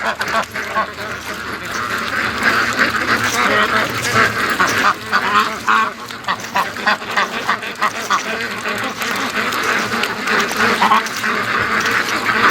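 A flock of free-range ducks quacks continuously at close range, many overlapping calls forming a busy, steady chatter throughout.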